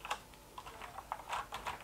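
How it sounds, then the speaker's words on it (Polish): Thermaltake X1 mechanical keyboard with many keys mashed at once, a quick, irregular flurry of clacky keystrokes, close and fairly quiet, with no voices. "Bez problemu wciśniemy ponad 30 parę klawiszy jednocześnie"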